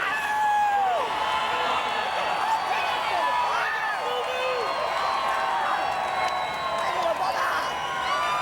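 Crowd at the 135th Kentucky Derby cheering and clapping for the winning jockey after a 50/1 upset, a loud, dense roar of whoops and shouts sustained throughout, with voices mixed in.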